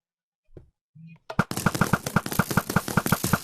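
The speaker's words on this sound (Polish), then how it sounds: "I naparza normalnie karabinek i zabijamy." A machine gun in a Minecraft contraption firing at mobs, a rapid even string of close, loud shots after a couple of brief clicks.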